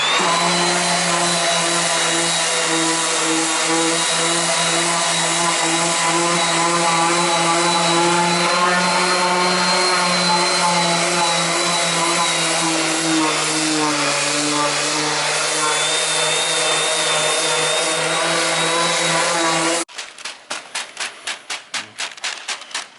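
A dust-extraction vacuum runs during sanding for varnish work. Its loud, steady whining hum with a shifting pitch lasts about twenty seconds, then breaks into a choppy, pulsing sputter at the end.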